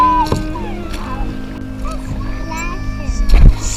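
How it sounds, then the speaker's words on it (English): Water splashing around kayaks during a family race on the Kenai River in Alaska, with a couple of sharp splashes over excited children's voices and paddling noise. "Splash!"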